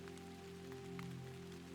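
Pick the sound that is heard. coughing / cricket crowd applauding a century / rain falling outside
rain falling outside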